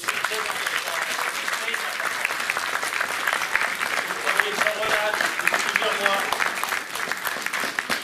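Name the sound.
audience applause at a pétanque tournament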